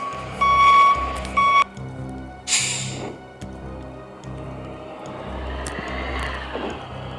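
A bus reversing in a bus simulator game: two bursts of steady electronic reversing beeps over a low engine rumble, followed by an air hiss and the engine revving up.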